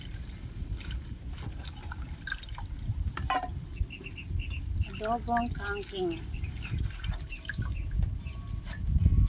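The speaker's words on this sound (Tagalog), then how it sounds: "Hugasan natin guys kasi madumi yan." Water spinach (kangkong) is washed under running water, with a steady rush and patter of water throughout and a voice speaking over it.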